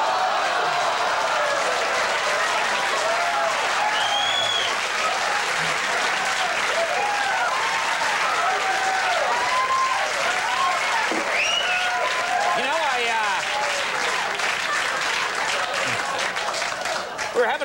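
A late-night TV studio audience breaks into sustained, loud applause, thick continuous clapping with some cheering mixed in, holding strong throughout.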